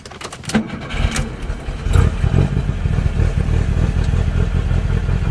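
A Volkswagen engine cranks with a few clattering turns, catches, then settles into a loud, steady running rumble close by.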